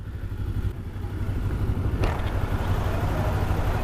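Car traffic on a windy day, a continuous low rumble of passing vehicles and wind buffeting with a brief clatter in the middle, close and steady.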